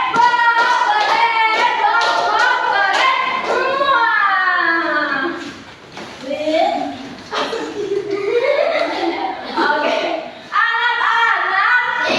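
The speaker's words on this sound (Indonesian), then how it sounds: "Kasih tepuk keren." Children in a classroom perform a rhythmic cheer, clapping and tapping in patterned beats while chanting together, with laughter and a teacher's voice interspersed.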